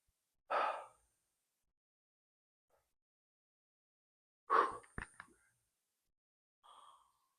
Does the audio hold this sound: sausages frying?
no